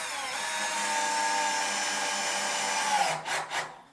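A power drill drives screws in tight aboard a sailboat, one sustained whirring run for about three seconds close by, then winding down with a couple of short trailing bursts.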